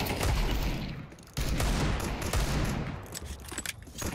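Counter-Strike 2 gunfire with sniper rifle shots, loud and close, with heavy repeated blasts and dense bursts filling the whole stretch and no talk over it.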